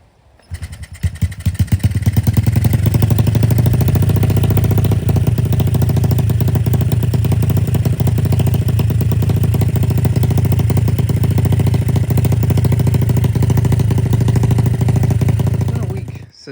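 A rebuilt Honda XR50 motorcycle engine fires up after a second and settles into a loud, close, steady running drone with a clattery mechanical edge that continues unbroken to the end.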